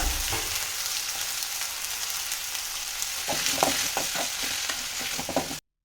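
Green chillies and mint fry in oil for mutton chops, a steady hiss of sizzling with a burst of quick stirring scrapes toward the end, close and without talk before the sound cuts off.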